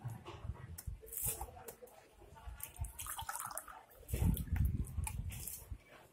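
Water running from a homemade dispenser, a filled bottle with a straw hole and cap set into a box, pouring out once the cap is opened: a steady close trickle and splash, swelling louder toward the end.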